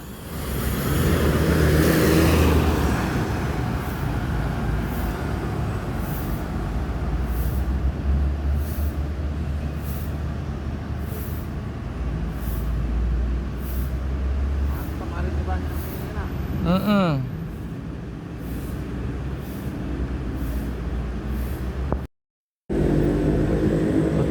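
A Putra Pelangi Jet Bus drives along the Trans-Sumatra highway with a loud, steady engine and road roar throughout, a brief horn-like rising call near the end, and a short cut-out just before it finishes.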